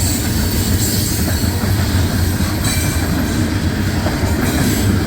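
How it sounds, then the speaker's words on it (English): A CSX coal train rolls past at close range on a humid June night where the Old Main Line begins, a loud continuous rumble of wagons with rhythmic wheel clatter and squeal and no talking. "So they're having more and more coal trains going through."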